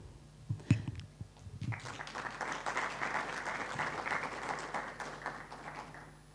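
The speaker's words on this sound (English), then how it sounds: "Please, clap for Thelma." An audience at a cybersecurity conference applauds a speaker, clapping swelling in after a few faint thumps and holding steady, moderately distant in a large room.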